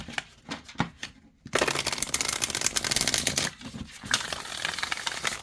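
Cards from a crystal oracle deck shuffled by hand, a few scattered taps and flicks followed by a dense, close riffling clatter that continues for several seconds with a brief pause.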